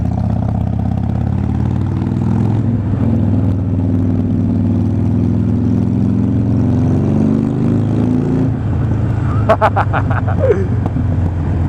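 Harley-Davidson Sportster V-twin fitted with Bassani Firepower slip-on exhaust, loud and close, idling with a steady lumpy drone and a few throttle changes, then a burst of sharp crackling pops near the end.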